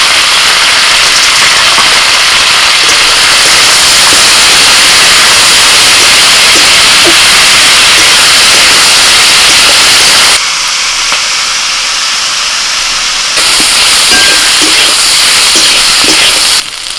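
Ivy gourd (kundru) frying in oil in a pan with turmeric and salt, a loud, steady, close sizzling hiss that continues throughout and drops briefly partway through before returning.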